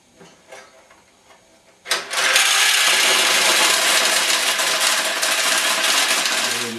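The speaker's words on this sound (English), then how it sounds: "we're ready to drain the machine, take all the balls out of it" Balls pour out of a flipped Nishijin pachinko machine as it is drained. A few light taps come first, then a sudden, dense metallic rattling clatter starts and continues steadily at close range.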